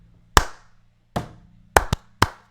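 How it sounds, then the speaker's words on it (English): Kick drum and clap beat from a song, with sparse, isolated hits landing in an uneven rhythm, punchy and dry with short decays. "It's a lot of kick clapping, kick drum clap sound effects thrown onto the beats that drive the percussive melody."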